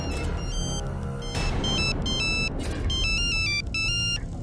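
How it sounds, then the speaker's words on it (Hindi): A telephone rings in a hospital-related crime drama scene, a repeating electronic ringtone pulsing steadily and fairly loud over a low rumbling background throughout. "हॉस्पिटल से ही फोन आ रहा है"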